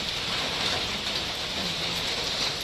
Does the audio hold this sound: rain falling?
yes